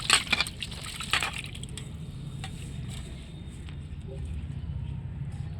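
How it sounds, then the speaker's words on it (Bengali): Mint leaves are swished and rinsed in water by hand, with soft sloshing and dripping up close that is loudest at the start and then settles into a quieter trickle. "ভালো করে পুদিনা পাতাগুলো ধুয়ে নেব বন্ধুরা।"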